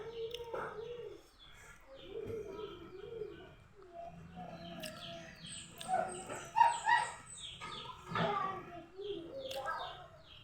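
A dog barks a few times at moderate distance amid birds cooing and chirping, with a voice speaking faintly at times.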